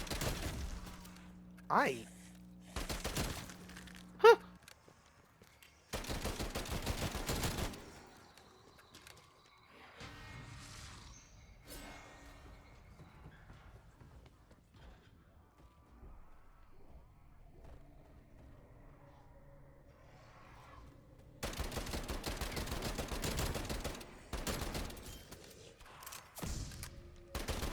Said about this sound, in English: I have not actually played with this SMG before.